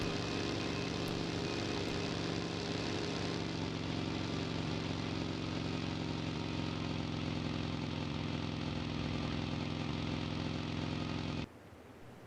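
A vehicle engine in the video game PUBG drones steadily and loudly at a constant idle-like pitch, with no talk, before cutting off abruptly near the end.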